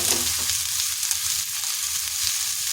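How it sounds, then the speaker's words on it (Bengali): Turmeric and chili powder go into a frying pan of ivy gourd and potatoes, giving a steady, close, loud sizzle of hot oil with faint stirring and no talk. "দিয়ে দিচ্ছি হলুদ গুঁড়ো আর সামান্য লঙ্কার গুঁড়ো"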